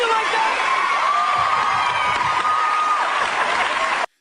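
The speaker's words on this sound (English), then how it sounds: "The audience was shocked, confused, and cheering all at once." Studio audience at a late night talk show cheers and whoops loudly, a dense continuous wall of crowd noise with high shrieks and applause that holds steady for about four seconds, then cuts off abruptly.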